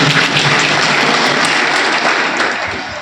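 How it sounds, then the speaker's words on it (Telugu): Loud, steady applause from a crowd honouring Ramakant Swami, many hands clapping together close and full for about three seconds before easing slightly at the end. "రమాకాంత్ స్వామి గారికి ఒకసారి చప్పట్లు కొట్టండి"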